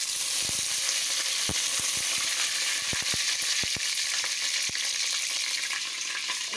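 Spices fry in oil over a low flame, a steady moderate hiss of sizzling with scattered sharp crackles and pops, close by and without speech.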